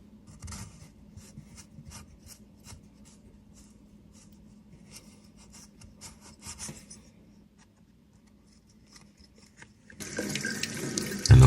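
Water from a tap runs and splashes as a Krups coffee machine milk nozzle is washed out, with scraping and rubbing handling noises, a quieter stretch, then a louder gush of running water at the end.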